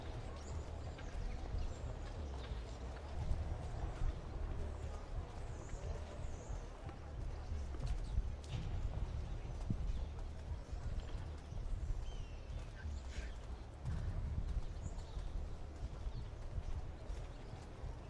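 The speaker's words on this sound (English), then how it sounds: "An outlandish horse." Hooves of a horse clip-clop steadily in the Assassin's Creed game, a continuous trotting rhythm under a low ambient bed, with faint sounds of birds and other game noise around it.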